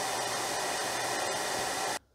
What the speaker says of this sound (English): let me dry it with a hairdryer